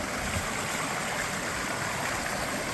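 A stream flowing near Kilgore Falls, a steady broadband rush of water running without a break, close and even, with no voices.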